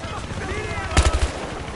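Gunfire in the video game Battlefield Hardline: a quick burst of four or five punchy close shots over a murmur of game ambience and voice chat.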